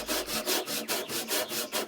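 A handsaw cuts wood on a workbench built from four pallets, with eight steady back-and-forth rasping strokes, loud and close.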